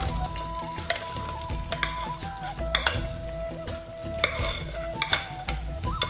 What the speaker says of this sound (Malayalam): നമുക്ക് ഇതിലേക്ക് നമ്മുടെ ചെറുപയറ്റും പരിപ്പ് ഇട്ടു.